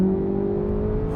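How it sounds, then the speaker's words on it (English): A Chevrolet Corvette Z06 flat-plane V8 holds a high, steady, buzzy engine note that rises slightly in pitch over a brief, loud, close stretch, with no talking. "Just got that flat plane V8 noise"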